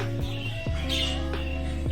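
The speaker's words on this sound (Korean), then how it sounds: "저기에 앵무새가 있습니다." A parrot gives a few short squawks over steady ambient noise and a low background hum, fairly clear but not very loud.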